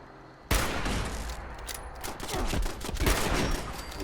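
Automated turret gunfire in the video game Fallout 76 bursts in suddenly and keeps going as a dense, continuous volley of rapid shots that stays loud throughout.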